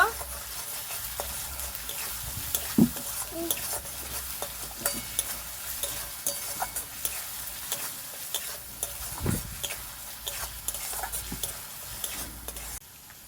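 A spoon stirs turmeric powder into a Bengali egg curry in a frying pan, scraping and clinking against the metal while the oil sizzles softly underneath, with occasional sharper knocks.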